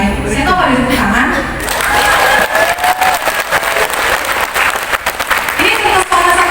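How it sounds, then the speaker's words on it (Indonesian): An audience at a leadership business seminar in Solo claps steadily, a dense wash of applause that stays loud throughout, with a voice speaking over it. "Saya tahu pada tepuk tangan."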